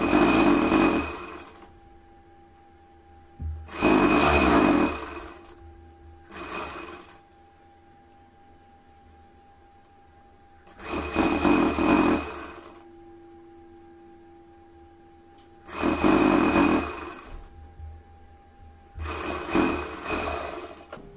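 A sewing machine stitches corded piping onto a garment neckline in loud repeated bursts of rapid whirring, each lasting one to two seconds, separated by pauses of near quiet.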